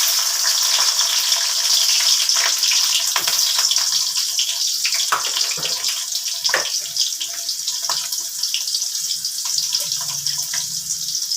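Onions tipped into hot oil in a kadai after garlic, frying with a steady close hiss and crackle, a little clatter of stirring on top, no talk.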